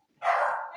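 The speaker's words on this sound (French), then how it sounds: "C'est mon chien qui aboie." A single dog bark rings out indoors, one sustained, fairly loud yelp-like bark with no talk over it.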